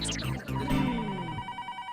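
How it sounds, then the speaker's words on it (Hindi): A telephone rings with a bright electronic trill, sounding in repeated bursts over a low tonal background. "फोन आया। हाँ सुनाई दे रहा है।"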